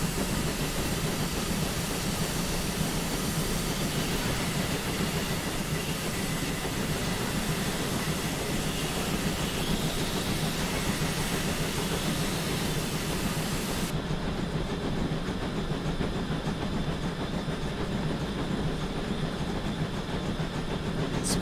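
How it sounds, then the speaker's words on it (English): GWR 8000-class steam locomotive 'Gloucestershire Cathedral' on the West Somerset Railway in Train Simulator 2021, a steady loud rumble of the engine and rolling carriages running continuously without talk. "Let's give the train some speed, shall we?"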